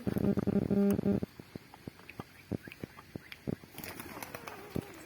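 White pigeons coo briefly, then wings flap in a series of sharp, irregular bursts as birds take off and flutter nearby.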